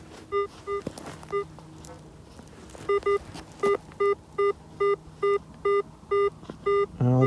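An AT Pro metal detector gives a series of short, evenly repeated electronic beeps, sounding about a dozen times in steady rhythm over faint outdoor rustling.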